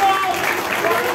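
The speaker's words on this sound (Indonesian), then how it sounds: "Tepuk tangan untuk Bu Mega." Crowd applause at a political declaration rally, a brief loud burst of clapping that lasts a moment.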